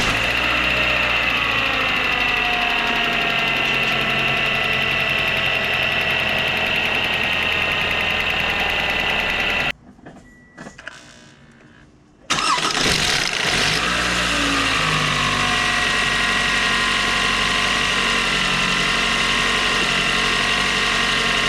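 A 2009–2017 Toyota Camry engine idling after an intake cam gear replacement for a P0012 fault, a loud steady close-up hum with rapid ticking, briefly dropping away mid-clip before resuming unchanged.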